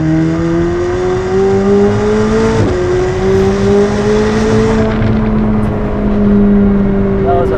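A McLaren 765LT Spider engine roars loudly and steadily, its pitch climbing as it revs and accelerates, with a brief dip partway through before pulling again.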